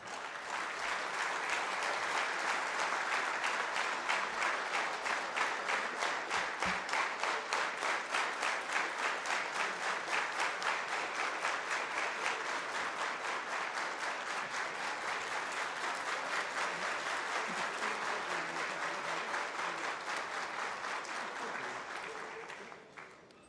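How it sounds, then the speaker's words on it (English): An audience at a public felicitation ceremony for an advocate gives a long, steady round of applause that holds evenly for over twenty seconds, dense and continuous, before fading out at the end. "And a big round of applause once again"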